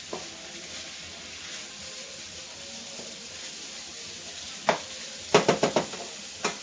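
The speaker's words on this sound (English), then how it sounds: "Work on breaking it up. Get everything stirred together." Ground sloppy joe meat browning in a pan gives a soft steady sizzle while a utensil scrapes and stirs it, with a burst of sharp clacking knocks near the end.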